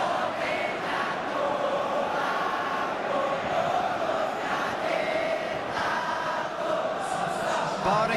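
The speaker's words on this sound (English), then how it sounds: "at least the crowd are appreciative of his efforts" A stadium crowd in the PES 21 football video game, Persib Bandung versus Barito Putra, roars and cheers in a dense, continuous wall of noise that stays loud and steady throughout, with no distinct voices.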